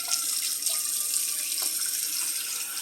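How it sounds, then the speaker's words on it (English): Water runs steadily from a tap into a pot for boiling noodles, a continuous bright splashing hiss at moderate volume with no talking. "fill up your water to get the noodles boiling"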